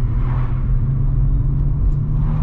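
A BMW M140i drones loudly while cruising, a deep steady engine boom with constant road rumble and no voices.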